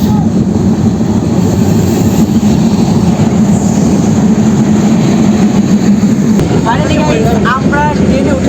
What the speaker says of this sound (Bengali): ফাইনালি গাইস, অনেকক্ষণ পর ট্রেন চলে এসেছে।